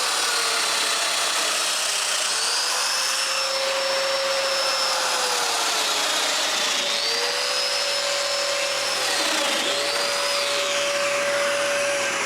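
Power drill or mortiser boring mortises in wooden furniture parts, a loud continuous whine that dips in pitch several times as the bit bites into the wood, with no talk.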